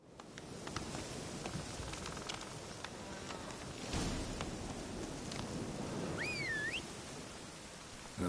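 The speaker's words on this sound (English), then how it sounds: "Looks like rain." Rain falls in The Witcher 3: Hearts of Stone, a soft continuous patter with scattered drops and a buzzing insect-like hum, plus a brief rising whistle-like tone near the end.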